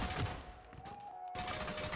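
A gun firing in the video game Off the Grid, heard as a rapid, continuous run of muffled shots over steady game background noise, fairly loud, with a brief lull partway through.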